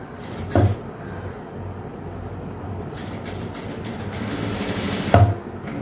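A sewing machine runs in two bursts, stitching piping onto the round neckline of a blouse, with a steady whirring hum. Sharp clunks mark the start and stop of each burst. It sounds loud and close.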